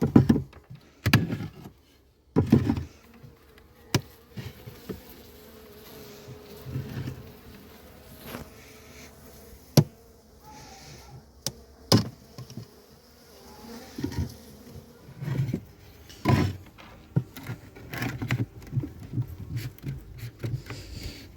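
Bees buzzing from a fully opened wooden beehive during late-October winter preparation, a steady close hum with scattered knocks and clatter of hive parts being handled, no one talking.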